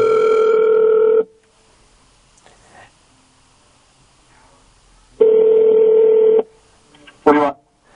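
Outgoing call tones through a Volkswagen navigation system over Bluetooth: two long ringback tones several seconds apart, loud and clean against near silence, followed by a brief click.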